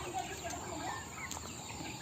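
Chickens cluck softly at close range, a few short scattered notes while they eat banana leaves, with a hiss of outdoor noise underneath.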